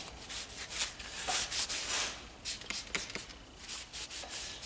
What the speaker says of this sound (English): I'm just going to spray some on a rag, and I'm just going to oil the top, and I'll oil the jaws of my vise.